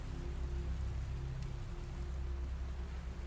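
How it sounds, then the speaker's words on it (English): Steady rain falls on the Winchester Mystery House, a dense, even hiss of drops spread across the whole clip with a low rumbling undertone and no voices. "The rain is falling now on the Winchester Mystery House."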